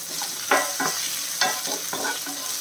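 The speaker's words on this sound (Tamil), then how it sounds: "வெங்காயம் நல்லா வதங்கணும்" Onions sautéing in a pan for a Tamil bottle gourd curry, with a steady sizzle broken by several sharp scraping stirs of a spoon, close and moderately loud, no talk.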